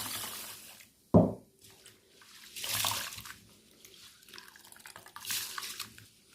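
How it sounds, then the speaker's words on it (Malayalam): Water poured over ration rice in a bowl to rinse it, with a sharp splash followed by several swelling bursts of running, sloshing water, close and alone. "ഈ വെള്ളം ഊറ്റി കളഞ്ഞ ശേഷം നമുക്ക് വേറെ വെള്ളം ഒഴിക്കണം."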